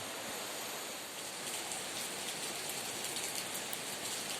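Steady rainfall outdoors, a dense even hiss of drops hitting surfaces that holds at a constant soft level with no other sounds or voices.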